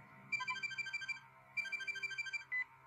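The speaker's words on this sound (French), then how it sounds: "Le téléphone!" A telephone rings with an electronic warbling tone in two trilled bursts, then a brief third chirp begins, clear and close in a quiet room.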